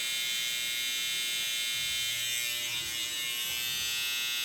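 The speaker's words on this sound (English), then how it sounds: "Using the back end of my clipper." Electric hair clippers trim a beard during a fade haircut. The motor gives a close, steady high-pitched buzz that shifts slightly as the blade moves over the hair, and it sounds alone.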